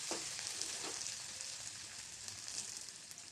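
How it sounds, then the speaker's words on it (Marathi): Onion with fenugreek leaves sizzles softly in a pan while being sautéed, a steady low frying hiss broken by a few scraping stirs. "थोडं परतून घेऊ बघू शकता आपला कांदा परतून झालेला आहे"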